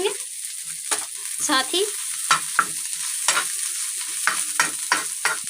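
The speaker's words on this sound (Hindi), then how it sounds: "और अब हम डालेंगे हरी मिर्चें, इन्हें सौते करेंगे।" Green chillies sautéing in a pan, a steady soft sizzle punctuated by sharp scraping stirs of a spoon, with a few brief spoken words.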